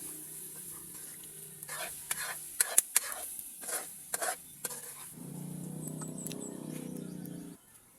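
Sautéed eggplant (ginisang talong) being stirred in a pan: a series of soft scrapes and clacks of the utensil, followed by a steadier gentle sizzle of the cooking eggplant, fairly quiet and close.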